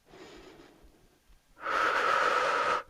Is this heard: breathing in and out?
yes